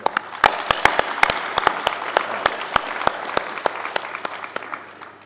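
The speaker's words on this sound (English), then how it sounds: "So can we please give them a round of applause too?" A crowd claps steadily for several seconds, with sharp individual claps standing out and the applause slowly tapering off at the end.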